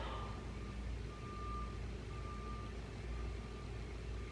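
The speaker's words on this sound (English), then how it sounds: "they're doing road work somewhere and it's beeping" From a distant road work site, a construction vehicle's reversing alarm beeps faintly and steadily, a string of evenly spaced tones heard indoors over low background rumble.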